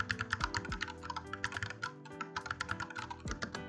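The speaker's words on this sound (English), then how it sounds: "feel this sound" Fast typing on a 60% mechanical keyboard, a dense run of close, crisp clacks in quick irregular bursts with a few deeper thocks from larger keys, alone and quiet.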